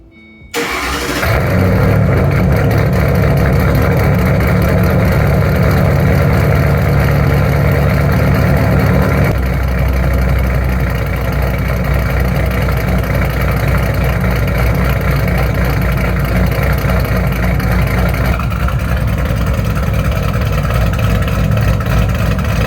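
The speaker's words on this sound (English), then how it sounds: "I'm gonna get a couple of revs for you guys" Car engine fitted with a Borla Atak exhaust starts and then holds a loud, steady, close rumble for about twenty seconds, with its pitch stepping up slightly around the middle and again near the end.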